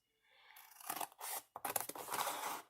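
Scissors cut paper for a handmade journal pocket, giving a few close, rustling snips and scraping cuts in quick, uneven bursts after a short quiet start.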